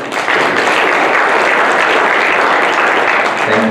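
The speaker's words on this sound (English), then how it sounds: "So please join me in giving the panel a very big round of applause." Conference audience gives the panel a sustained, dense round of applause, loud and even throughout, with a voice starting to speak at the very end.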